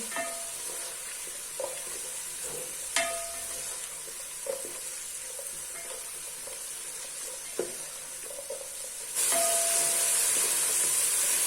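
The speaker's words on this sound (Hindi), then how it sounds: "और अब हम इनको अच्छे से फ्राई कर लेंगे" Beetroot and a Knorr stock cube fry in a pan with a steady, close sizzle, broken by a few light clinks of stirring; the hiss grows brighter and louder near the end.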